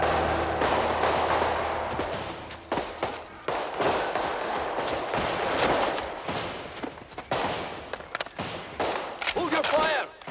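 Gunfire crackles through a period drama scene, a dense barrage of sharp bangs and bursts repeating irregularly over loud background noise and shouting voices throughout.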